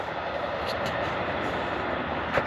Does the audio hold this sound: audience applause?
no